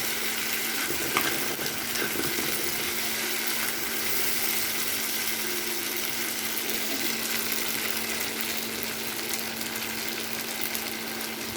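Pasta sizzles and crackles in a frying pan, a steady, close hiss that holds level throughout with no talk.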